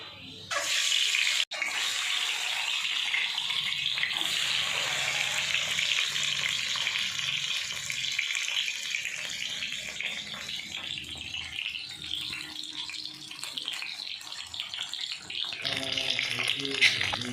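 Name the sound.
egg frying in a pan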